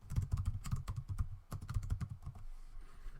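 Fast typing on a computer keyboard, close and clear, with an irregular stream of key clicks that stops near the end.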